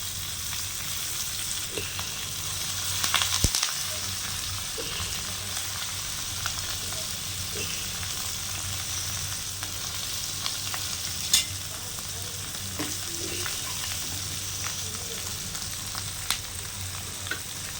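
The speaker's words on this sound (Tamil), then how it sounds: "நம்ம இப்போ நெத்திலி கருவாடு போட்டுக்கலாம்" Dried anchovies sizzle and crackle steadily in a hot frying pan, a constant dense hiss with occasional sharper pops and a brief stir or clatter of the pan.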